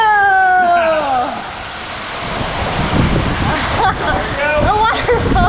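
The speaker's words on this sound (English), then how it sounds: "A waterfall!" Rushing water from a waterfall splashing riders at the end of the Riptide Race water slide at Aquatica Orlando, loud and close, with excited voices and squeals over it.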